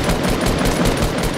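Rapid automatic gunshots from a weapon in the video game Fortnite, a tight steady burst of shots fired in quick succession, loud and close, with no speech.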